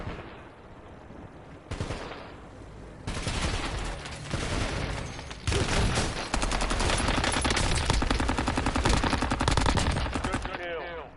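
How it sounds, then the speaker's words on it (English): Video game gunfire: after a short quiet opening, dense bursts of automatic shots rattle in rapid succession for several seconds, loud and sustained, and end abruptly. "Incoming shots."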